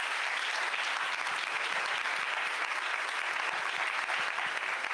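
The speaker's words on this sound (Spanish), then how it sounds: "Un aplauso, por favor." A lecture audience at a seminar breaks into steady applause after a keynote talk, a dense, even wash of many hands clapping at constant loudness with no voices standing out.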